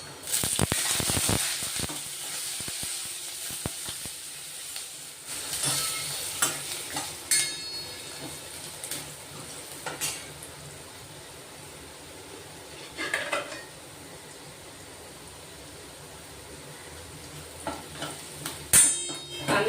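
A spoon stirs fried onions with turmeric and curry leaves in a pan, scraping and clinking against the metal over a low sizzle, close and steady with brighter clatter early on.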